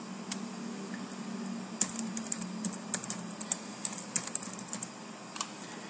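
Steady typing of a name on a computer keyboard at a hostel front desk, with irregular quick key clicks over a low, constant room hum and no talk.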